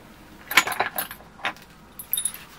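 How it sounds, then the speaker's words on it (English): Metal Allen keys being handled and clinking together in short bursts, close and fairly loud, used as tools for opening a Ninebot Segway scooter compartment. "we'll be using this Allen keys"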